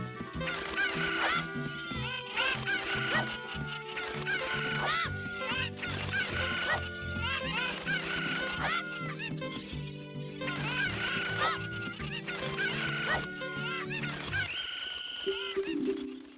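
In Ocarina of Time, a flock of chickens clucks and squawks over a busy game soundtrack, with a steady run of close, repeated bird calls across the whole stretch.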